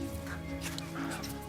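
Chickens cluck faintly in a vegetable garden over a steady droning background, with a few short calls rising above the hum.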